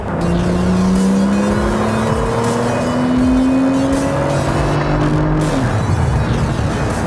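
A Porsche 991 Turbo's engine accelerates at full throttle, its tone climbing steadily for several seconds before dropping sharply at a shift, loud and close with no talk.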